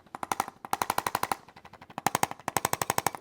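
Percussion massage gun used on a patient's back during a chiropractic treatment, with rapid rattling bursts of hammering pulses separated by brief pauses, close and fairly loud.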